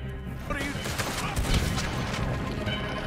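Gunfire in Red Dead Redemption 2 as a dense, continuous volley of shots and crashes with voices talking over it.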